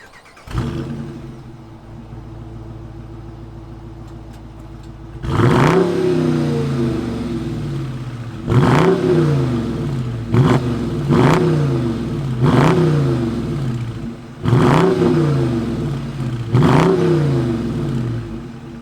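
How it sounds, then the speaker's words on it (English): A 2021 Dodge Charger R/T with its Hemi V8 cranks and fires up, settles into a steady idle, then roars through six or seven sharp, loud revs in a regular rhythm, each dropping back to idle. "let's hear what this Hemi sounds like and see if it could outdo the Stinger GT. Let's fire it up."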